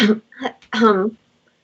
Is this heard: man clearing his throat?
yes